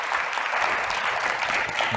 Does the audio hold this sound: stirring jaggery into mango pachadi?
no